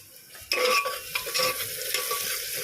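Onion fries in spiced oil in a pot for a mutton dish, a loud sizzle bursting in after a quiet start and crackling steadily while a spoon stirs with light scrapes.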